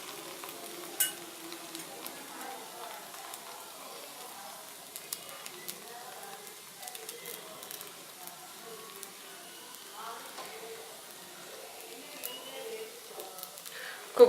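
Coconut puran poli (kayi holige) frying in gingelly or sesame oil on a pan over a medium flame gives a steady, soft sizzle with faint crackles and occasional light clinks throughout.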